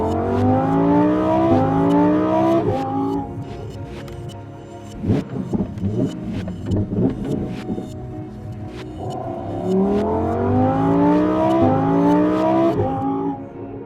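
Lamborghini Huracan Sterrato off-road supercar accelerating hard, its engine climbing through several rising gear pulls, easing off in the middle, then revving up again, loud and close.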